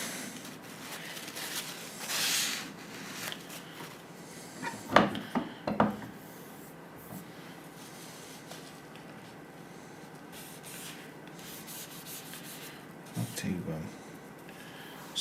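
A Wicked Edge sharpener works 1000 grit stones along the edge of a Spyderco knife, giving a few short rasping strokes that stay faint under a person talking.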